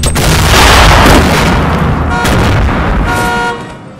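A loud, booming grenade blast in the video game Fortnite, one heavy close explosion with a rumbling tail that dies away after a few seconds.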